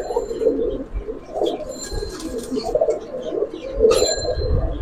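A female Giribaz pigeon carrying eggs coos in low, throaty rolls while being held in hand, with rustling and a few brief flaps mixed in close by.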